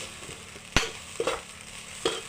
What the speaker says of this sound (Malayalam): ഇത് നന്നായിട്ട് ഇളക്കി കൊടുക്കുക